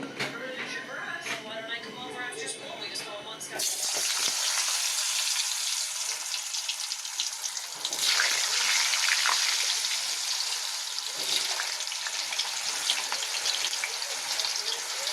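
Potatoes dropped into hot oil with fried cumin seeds, a sudden loud burst of sizzling that settles into a steady crackling fry, following a stretch where someone talks.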